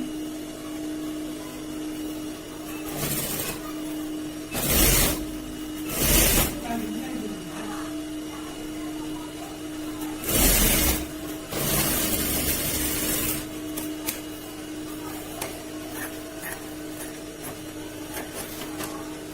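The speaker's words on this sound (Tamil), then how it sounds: "இப்படி திருப்பி படிமான தையல் போடுங்க" A sewing machine stitching a blouse seam, running as a steady mechanical whir with tonal hum throughout, broken by several louder bursts of stitching, close up.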